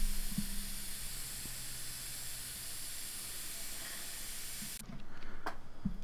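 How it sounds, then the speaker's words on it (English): An airbrush sprays blue paint in a steady, smooth, close hiss that holds evenly for several seconds, then cuts off abruptly, leaving near quiet with a few faint handling clicks. "it will spray nice and smoothly out of the airbrush"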